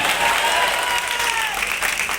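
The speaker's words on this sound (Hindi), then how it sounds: "उनके जोरदार तालियों से स्वागत बनता है कि नहीं बनता है?" A crowd at a Congress party Kisan Nyay Yatra rally in Rajgarh gives loud, continuous applause to welcome a leader, with a faint tone sustained under the clapping.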